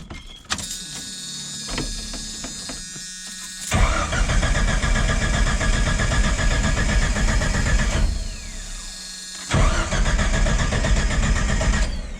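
Jeep Cherokee with the Renix ignition system, which has a failing or unplugged ignition coil, cranking repeatedly without starting: two long bursts of loud, close starter whirring separated by a pause, with a brief click before each.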